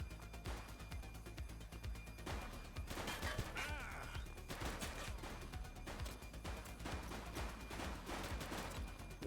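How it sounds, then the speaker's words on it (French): Gunfire in The Precinct police game, rapid bursts and single shots cracking repeatedly across the scene with crashing impacts, dense and continuous, with brief in-game voices. "She's shooting!"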